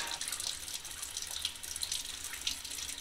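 A paint roller is rinsed under a running tap in a paint shop sink, with a steady splashing stream of water and small irregular spatters and no voices.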